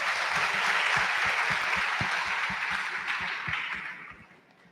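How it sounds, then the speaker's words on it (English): A conference audience applauds as an event manager is called to the stage, a full crowd clapping steadily with a few louder individual claps, fading out at the end. "Guys, please have a huge round of applause."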